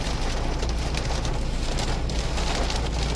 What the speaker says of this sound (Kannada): ಎಂತ ಮಳೆ ಬರ್ತಾ ಇದೆ, ಒಳ್ಳೆ ಮಳೆ